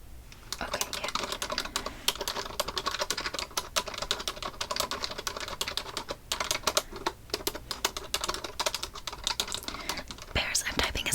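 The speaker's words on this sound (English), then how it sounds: "I'm typing as fast as I can" Fast, continuous clatter of keys on a computer keyboard during a late-night study session, close and crisp, with soft whispered voices running underneath the typing throughout.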